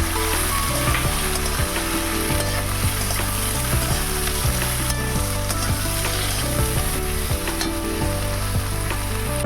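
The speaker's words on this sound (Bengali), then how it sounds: "টমেটমগুলো দিয়ে দেবো আবারও সবগুলো নাড়াচাড়া করে নেব" Tomatoes and chopped brinjal are stirred into a frying parshe fish curry, with a steady loud sizzle and repeated scraping, clattering stirring strokes running throughout, close and without talk.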